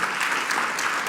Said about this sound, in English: we should give them a hand of applause